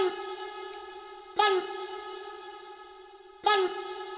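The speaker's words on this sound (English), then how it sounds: "It really gives a nice tail, and it's really a nice big ambience." A vocal chop treated with a bright hall reverb, two sharp vocal attacks each followed by a long, ringing, tonal tail that fills the space between them, heard alone with no talking.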